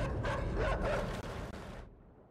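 A dog in a zombie video game barks and yips in a quick run of several bursts, then cuts off abruptly, loud and close with no talk.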